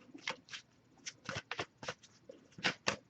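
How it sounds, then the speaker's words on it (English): Quiet, close sequence of quick papery flicks and riffles as oracle cards are shuffled in short uneven bursts. "I'll give it a few more shuffles"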